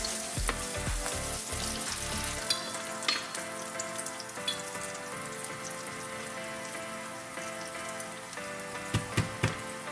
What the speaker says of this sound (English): now that we have the onions and the garlic sauteed